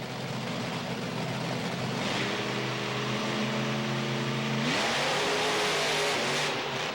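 Monster truck engines idle and rev at the starting line of a 2005 arena event in St Paul, a loud sustained roar that rises in pitch as the throttle opens.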